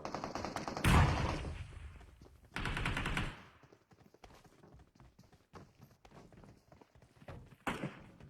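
Shotgun blasts ring out in the mobile battle-royale game PUBG Mobile: a loud close boom, then a second burst a couple of seconds later and a sharper report near the end, with faint footsteps and clatter between.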